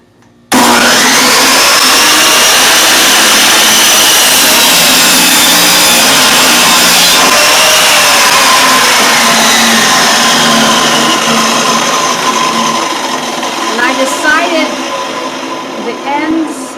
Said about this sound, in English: placed it on my compound miter saw. Now I'll be cutting out the 2 foot length.